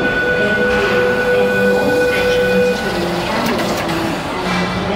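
Inside a moving Sydney train, a continuous rumble of the carriage runs beneath steady whining motor tones that fade partway through.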